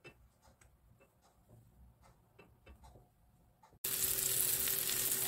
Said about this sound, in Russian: На разогретую сковородку я уже выложила рыбу.